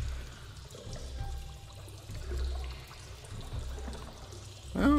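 Water sloshing and pouring through a stone castle sewer in the Shadowgate PC game, a steady low trickling wash that swells and fades, ending with a brief louder splash.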